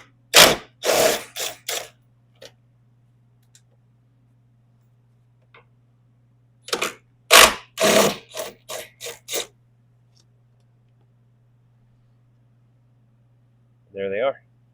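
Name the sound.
removing 13mm bolts with a ratchet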